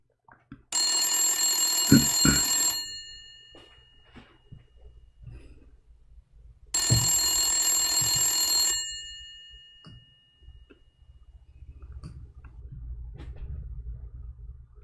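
Old landline telephone bell ringing with no answer: two long harmonic ring bursts about four seconds apart, loud and close, with quiet room noise in between.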